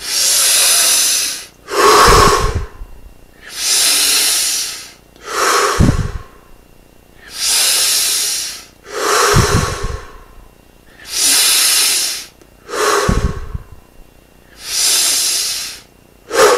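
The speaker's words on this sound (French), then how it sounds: "On respire au maximum." Deep, slow breathing during a meditation exercise, with long loud hissing inhales and exhales alternating in a steady rhythm, close and alone, about eight full breath cycles.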